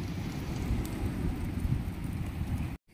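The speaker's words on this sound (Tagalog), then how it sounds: "habang nagpapatila tayo ng ulan" Steady rain falling outdoors at a boatyard where a large fiberglass-hulled boat is being built, a dense continuous patter with low rumble, moderately loud, cutting out briefly at the end.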